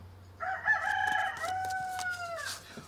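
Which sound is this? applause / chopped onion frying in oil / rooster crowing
rooster crowing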